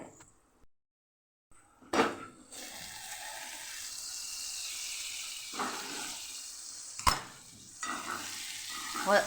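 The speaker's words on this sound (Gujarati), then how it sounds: "ગેસ આપણે સાવ ધીમો રાખ્યો છે અને ડીશ ઢાંકી અને ઉપરથી આપણે પાણી ઉમેરશું એટલે એ વરાળે ચડશે" Marinated okra steam-cooks on a very low gas flame under a covered dish with water added on top, giving a steady soft sizzle broken by a few louder clinks and clatters of the cookware.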